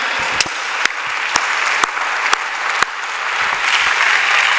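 Church congregation in a solemn worship service applauding, sustained clapping from many hands with a few sharp louder claps standing out, swelling toward the end.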